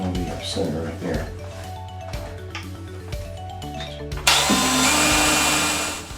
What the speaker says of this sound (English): This is a drill bit that's made especially for porcelain and ceramic tile.